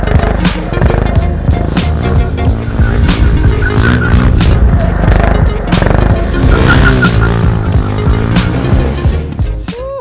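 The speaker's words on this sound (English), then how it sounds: "those drifts are so fun!" A motorcycle drifting, its engine roaring loud and close while the tire skids and squeals across the surface for the full stretch.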